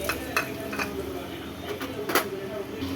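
Garlic, six dried red chillies and two handfuls of broken roasted gram stirred and lightly roasted in a pan, with scattered scraping and clinking of a spoon against the pan over a low steady background, close by.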